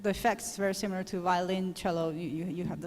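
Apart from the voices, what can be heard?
None of the usual background noises is heard.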